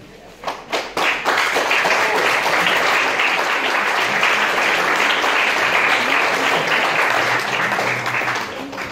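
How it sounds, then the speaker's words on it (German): An audience at a short film festival applauds the filmmakers, starting with a few scattered claps that swell into dense, sustained clapping filling the hall, close and loud. "Einen riesengroßen Applaus für die Filmschaffenden der ersten 8 Filme des Festivals."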